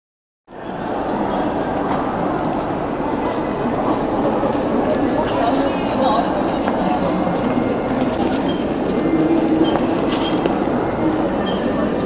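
A train departs, its steady rolling rumble starting abruptly and continuing loud and unbroken, with light rail clatter over the heavy low roar.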